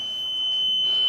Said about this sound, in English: Yes, so this is the alarm.